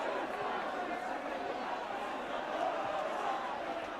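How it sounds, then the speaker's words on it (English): Shrewsbury Town's home football crowd at an F.A. Cup fourth-round match against Ipswich Town, a steady distant roar of cheering and chatter. "Shrewsbury being urged by their crowd to keep going forward."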